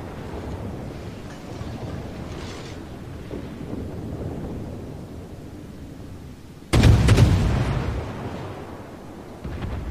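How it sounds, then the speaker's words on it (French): A naval gun shell hits in World of Warships with a single sudden, heavy boom that rumbles and decays over a few seconds, set against a low, steady battle ambience. "Nos obus sont arrivés en même temps."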